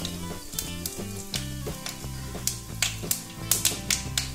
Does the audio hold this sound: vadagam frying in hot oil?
yes